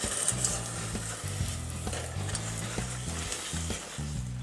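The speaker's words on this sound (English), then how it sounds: "we're just going to continuously stir this until the sugar is completely dissolved" Sugar, glucose syrup and a little water are stirred continuously in a pot on the stove, a close, steady rhythm of spoon scrapes and knocks against the pot with a faint sizzle beneath and no talking.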